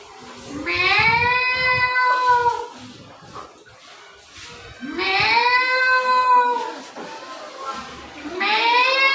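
A voice imitates a cat, giving three drawn-out meows separated by short pauses, close and clear.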